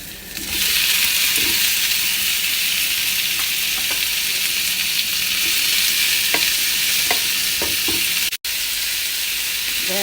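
Tomatoes fry with eggplant and potato in a pan, giving a steady close sizzle with occasional stirring clinks and a brief dropout near the end.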